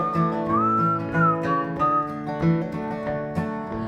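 Someone whistles a tune up close, with sliding pitches and a few sustained notes over a steady instrumental backing.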